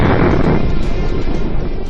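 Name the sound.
tank cannon firing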